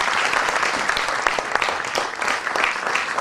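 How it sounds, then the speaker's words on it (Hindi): Audience at a batch reunion applauds steadily, a dense, even wash of clapping from a standing crowd that continues without pause for several seconds. "तालियों से स्वागत। अपने अपने स्थान पर खड़े होकर।"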